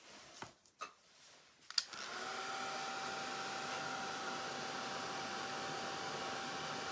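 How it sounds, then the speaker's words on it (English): A handheld dryer drying the top coat on a moose Christmas door hanger craft. A few clicks and handling bumps come first, then the dryer switches on with a steady close whooshing roar to the end. "Hit it with a dryer."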